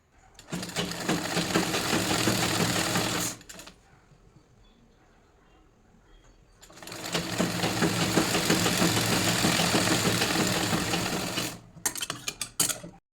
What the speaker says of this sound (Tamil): அடுத்த பீஸில் உள்பக்கமாக தைக்கணும் ஒரு கால் இன்ச்சு அளவுக்கு மடித்து தைச்சிக்கலாம்